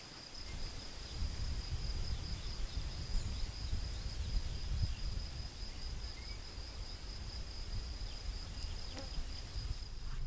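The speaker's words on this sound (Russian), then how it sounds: "Пчелы летают, это не может не радовать." Honey bees fly around a swarm trap outdoors in June, a soft continuous buzzing drone beneath faint ambient hiss, with no talking.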